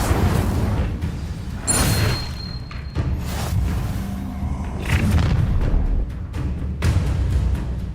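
A fire spell cast in Hogwarts Legacy erupts in deep booming thumps and bursts, loud and close, repeating through a rumbling battle din.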